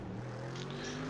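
A Mercedes AMG GT3 race car in the iRacing game at Spa hums a steady, droning engine note heard from a chase view. The sound is constant and moderately loud, with no talk.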